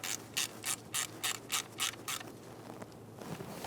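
Ratchet wrench tightening valve cover bolts on a Dodge Grand Caravan 3.6L, eight quick evenly spaced ratcheting clicks in a steady rhythm, close and crisp, followed by quieter faint rubbing and handling noise.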